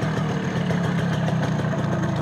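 An MZ ETZ motorcycle engine runs at low speed, a steady close putter with a faint rhythmic pulse and no one talking over it.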